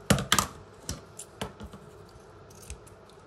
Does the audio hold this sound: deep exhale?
no